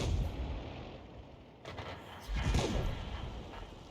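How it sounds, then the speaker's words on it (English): Howitzer artillery fire from a tier 3 self-propelled gun in World of Tanks, a Sturmpanzer I or AMX 105 AM: a sharp blast near 1.6 seconds and a heavier boom around 2.5 seconds over a steady low rumble of battle ambience. "howitzer in a tier 3 Arty and just nailing the enemy with one shot"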